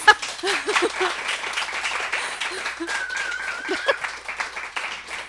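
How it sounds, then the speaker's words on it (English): An audience at a book talk gives a round of applause, a dense patter of clapping filling the room at moderate loudness with a few chuckles mixed in. "can we give her a round of applause?"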